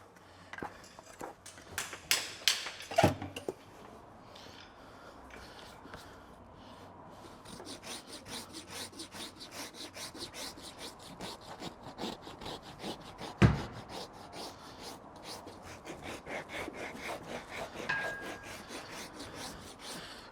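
A farrier's apprentice shoes a horse's hoof nearby, with rough rasping and filing strokes in bursts, a sharp knock partway through, and a steady run of repeated rubbing scrapes in the background.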